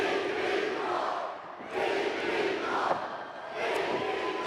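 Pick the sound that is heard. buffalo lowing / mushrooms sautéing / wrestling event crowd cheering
wrestling event crowd cheering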